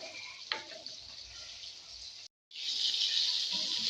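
Fish and vegetables frying in a home kitchen pan, a steady hiss of sizzling oil with a short break partway through, then resuming louder.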